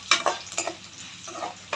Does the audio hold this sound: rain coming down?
no